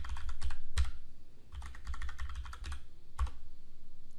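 Quick bursts of keystrokes on a computer keyboard as a password is entered, clustered taps separated by short pauses, close and clear over a low steady hum.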